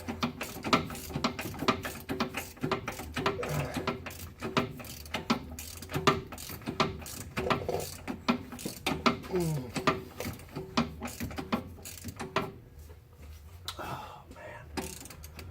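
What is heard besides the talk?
ratchet wrench ratcheting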